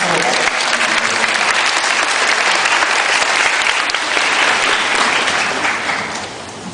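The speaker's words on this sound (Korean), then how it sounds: "큰 박수로" An audience at a school admissions information session applauds, producing a dense, loud, continuous wash of clapping that holds steady before tapering off at the end.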